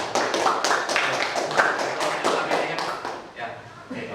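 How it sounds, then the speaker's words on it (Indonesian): A classroom of students applauding a group after its presentation, a steady dense patter of many hands clapping close by that carries on for about four seconds and thins slightly toward the end. "tepuk tangan untuk kelompok 1"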